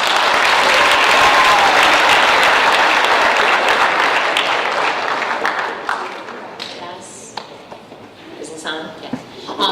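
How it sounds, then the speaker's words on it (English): Audience applause at a school celebration event, loud sustained clapping that gradually tapers off into scattered claps and thumps, with voices starting to speak as it dies down. "So, big round of applause for Mrs. Knox."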